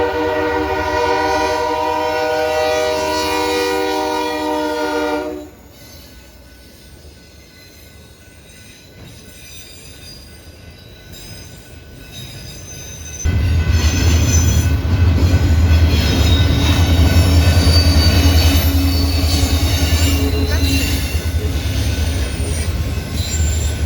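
CPKC freight train passing, opening with a loud sustained horn blast, then a quieter lull before heavy rumbling wheels and squealing railcars roll by close and loud.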